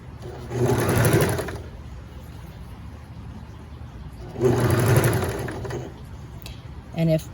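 Sewing machine stitching binding around an armhole curve, two sustained bursts of close whirring motor hum separated by a quiet pause, with a brief third burst at the end.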